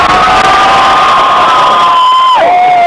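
A concert crowd screams and cheers loudly at close range, with a sustained wall of high-pitched shrieking voices that sweeps downward near the end.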